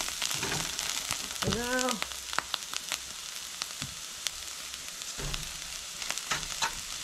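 Garlic frying and stirred in a pan over browned onions, a steady close sizzle with scattered clinks and scrapes of stirring, and a brief voice speaking near the start.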